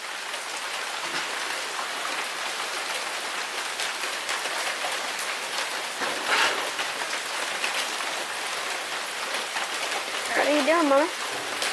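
Steady rain patters on and around a gate throughout, and a voice speaks briefly near the end over the continuous hiss of falling drops.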